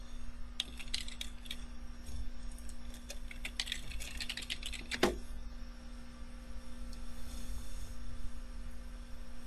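A computer keyboard is typed on to enter a terminal command on a Linux system: scattered quiet key clicks in short bursts, one sharper tap near the middle, then a steady low electrical hum with no talk.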